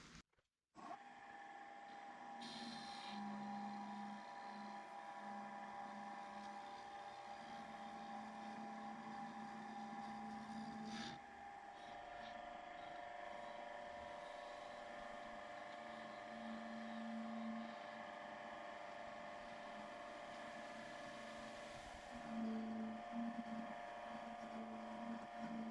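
A wood lathe turning a resin piece, a steady motor hum and whir that runs continuously at moderate level, with a faint scraping tone wavering in and out near the tool and no talk.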